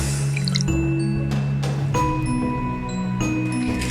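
About 150 ml of water is poured into a cooking pan for boiling noodles, heard as a close, quiet stream of splashing and dripping with small ringing tones from the metal pan.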